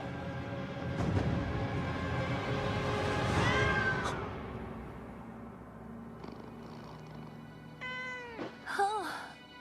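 A cat meows in a series of rising and falling calls near the end, following a stretch of louder mixed sound with some voice in the background.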